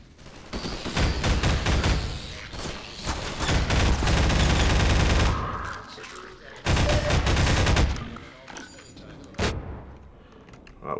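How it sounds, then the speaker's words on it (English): Automated turret spraying gunfire in Half-Life 2, with rapid bursts of close, loud shots in several separate volleys and short pauses between them, and brief speech in the gaps. "There's a turret there I've just noticed up there."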